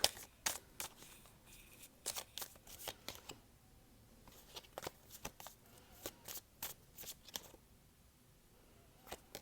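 Tarot cards handled and shuffled close up, a quiet run of crisp riffling snaps and flicks in irregular bursts, with no talking.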